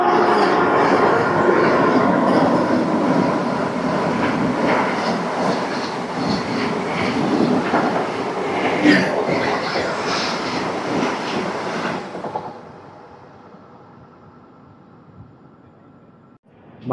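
Rail noise from a passing train overtaking the Visakha Express, a loud steady rumble and rush that continues for about twelve seconds, then drops to a faint hum near the end.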